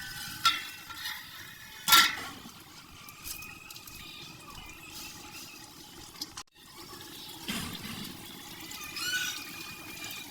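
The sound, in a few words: stirring chicken and peas in a cooking pot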